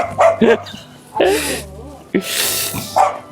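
A dog barks in short bursts close by at a Korean home gathering for kimjang kimchi and pork belly suhyuk, with people laughing and chatting over and between the barks.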